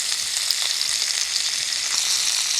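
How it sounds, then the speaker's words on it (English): Redfin perch fillets frying in a hot pan, a steady close crackling sizzle with small pops and no voices. "double frying by flipping it twice"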